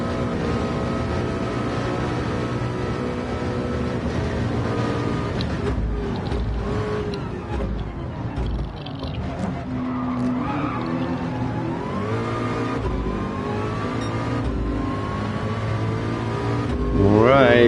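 Race cars in a Le Mans VR racing game, several engines droning and revving close by with shifting pitch, brief tire squeals and a rising rev near the end.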